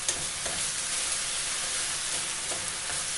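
Turkey mince with coriander frying in a pan, a dense, even hiss of sizzling oil with a few soft stirring scrapes, close and steady, with no talking.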